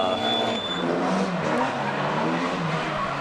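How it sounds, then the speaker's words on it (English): A drift car engine screams at high revs at a street drifting event, bouncing against its limiter in a sustained loud buzz, with no break in the noise. "I hear some limiter."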